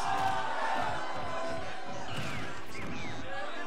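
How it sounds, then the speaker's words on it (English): Crowd roars and cheers continuously at a live Super Smash Bros. tournament top 8 match, a dense, loud wall of voices with commentators talking over it throughout. "crowd is going nuts over there."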